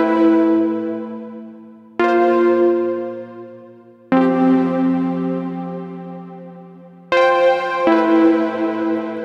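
Sustained synth chords from an Elektron Analog Four wash into one another through a Collision Devices Black Hole Symmetry pedal, carried by a long, shimmering reverb tail that lingers well after each new chord enters.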